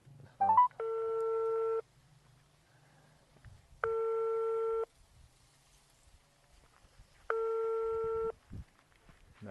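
Three long, steady electronic phone rings, evenly spaced with quiet pauses between them, heard through a handset.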